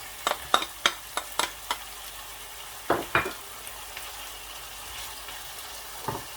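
Tomatoes go into a pan of frying chicken masala boti, making a quick run of soft clatters and thumps followed by a couple more, over a faint sizzle and with no talking.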